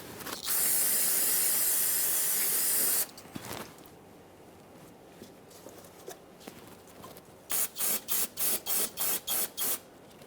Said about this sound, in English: Just going to use some parts cleaner.